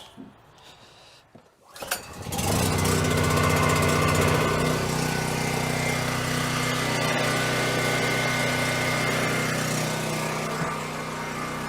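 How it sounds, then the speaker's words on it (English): A portable generator starts up and settles into a loud, steady running drone with strong engine vibration, preceded by a few brief clunks during startup at a property being winterized. "get the generator fired up so we get some air in the house"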